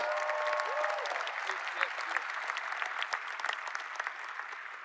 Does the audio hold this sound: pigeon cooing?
no